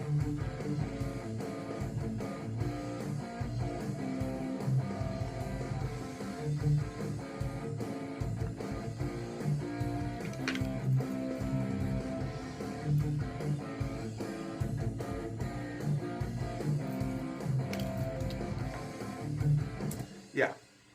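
A full rock song demo plays, its drums programmed in Superior Drummer, with steady drum hits under dense guitars and bass, sustained and moderately loud before fading at the end.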